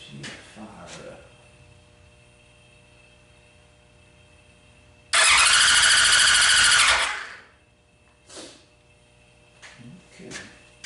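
A freshly rebuilt Suzuki Hayabusa motorcycle engine, fed by a siphoned fuel pump, fires up on test and roars loudly for about two seconds before cutting out abruptly, surrounded by quieter shuffling and faint voices.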